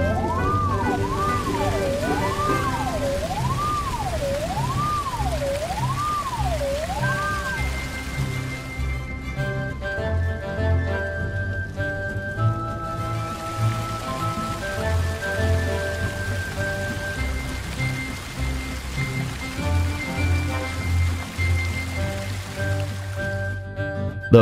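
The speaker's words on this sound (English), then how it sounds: "And now extinguish the fire with water from the tank." Steady hiss of water spraying from a fire truck's tank onto flames runs throughout, beneath looping electronic game music with a wobbling tone.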